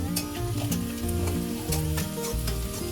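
Onions sautéing in a pan for a plain South Indian gravy, a dense continuous sizzle with soft stirring scrapes, close and steady beneath faint background music.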